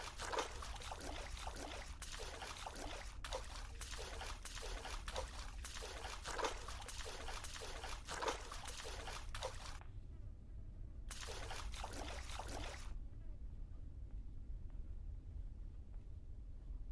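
Footsteps splash through shallow water in the horror video game Granny, a steady run of close, wet sloshing steps that pauses briefly and resumes for a few more before stopping.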